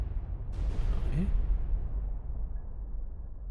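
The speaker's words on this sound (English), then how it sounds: "I like the explosions, they're cool." Deep underwater explosions from depth charges in the WWII naval game Destroyer: The U-Boat Hunter, a loud rumbling blast with a rising whoosh, then a long low roar that fades over a few seconds.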